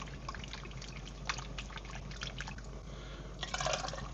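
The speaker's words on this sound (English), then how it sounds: "Stir it up." Lentil stew is stirred in a pot, giving a faint, continuous wet sloshing and gentle liquid trickling that swells briefly near the end.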